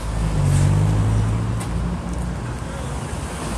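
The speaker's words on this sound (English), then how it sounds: "I know it's probably loud with all the traffic," Steady road traffic rumbles on a Portland, Oregon street outside a federal courthouse. Passing cars and engines keep up a continuous low drone with some wind noise, loud and close, and no one speaks.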